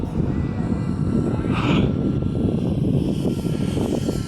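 A 30mm electric ducted fan model jet, a Folland Gnat, flies overhead in a test flight, producing a continuous whirring roar that swells into a brief whooshing pass midway.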